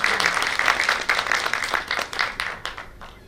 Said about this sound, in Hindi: इसके लिए मैं रिक्वेस्ट करूंगा कि एक जोरदार तालियां हों।